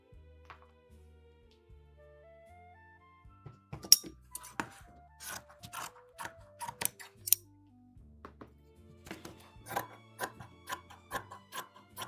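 Scissors cutting fabric along a template piece for doll clothes, a series of crisp snipping clicks that quicken in the second half, with soft tonal background music throughout.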